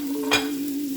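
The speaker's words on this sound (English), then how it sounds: "we're gonna put in our tomatoes and our ham on the other end of the pot or the pan" Tomatoes and ham sizzling in a hot pan give a steady frying hiss with one brief stirring scrape, close and continuous across the short moment.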